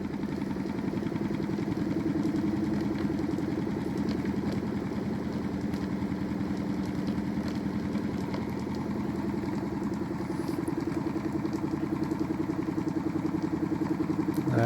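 A Newman motor running at 400 volts hums and clatters steadily, a continuous buzzing mechanical drone with rapid rhythmic ticking that holds at a constant moderate level throughout.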